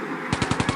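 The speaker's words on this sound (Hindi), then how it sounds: "बदमाश गोली चलाने लगता है।" Machine-gun sound effect in an animated Chacha Chaudhary comic, a short rapid burst of about five sharp evenly spaced shots, loud and close.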